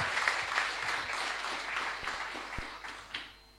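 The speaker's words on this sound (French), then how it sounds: "Est-ce qu'on peut applaudir pour cette question?" Soft applause from an audience at a bilingual French and English talk, rewarding a question; scattered clapping at moderate distance, fairly quiet and thinning toward the end.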